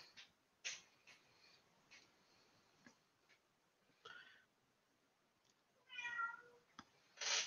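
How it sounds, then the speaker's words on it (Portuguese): A house cat meows indoors several times, with short, fairly faint calls spaced irregularly over a quiet room background and one slightly louder call at the end. "a gata tá aqui chamando"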